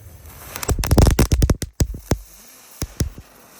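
A whole pack of Gangsing Super three-colour ground spinner fireworks goes off at once in a rapid, loud cluster of sharp pops and crackles that thins out to a few scattered bangs.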